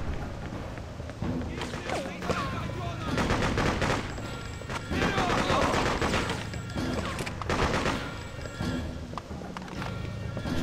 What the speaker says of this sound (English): And someone has a heavy machine gun.